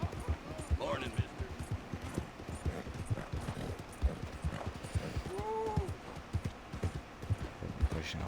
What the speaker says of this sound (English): Once it starts breathing like that, it's like pushing the horse too much.